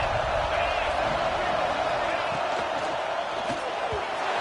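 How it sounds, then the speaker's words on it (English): Home crowd at a Texas college football stadium roaring loudly on second and goal, a dense continuous wall of cheering and shouting with no break. "how nice is it to have the home crowd going absolutely bananas?"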